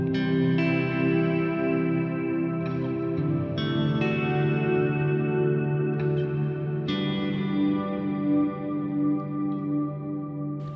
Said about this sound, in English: That's a really cool shimmer sound.